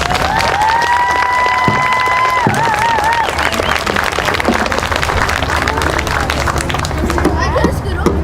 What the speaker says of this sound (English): Let's get another round of applause for our kids.